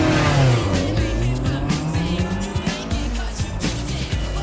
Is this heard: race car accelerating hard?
yes